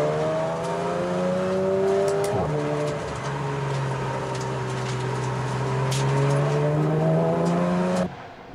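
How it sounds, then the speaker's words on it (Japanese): A Porsche race car from a favourite tuning shop on a time attack at SUGO circuit, its naturally aspirated engine holding a loud, steady high-pitched drone with one brief dip, then cutting off abruptly near the end. "ノブお気に入りのチェックショップのポルシェ、しかしいきなりピットイン"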